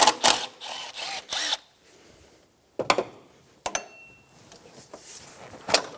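Socket wrench on a 10mm bolt at the intake of an Infiniti G35: a few short bursts of metallic clicking and ratcheting, close and crisp, separated by quiet gaps.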